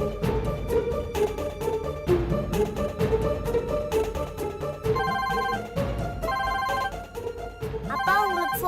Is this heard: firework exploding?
no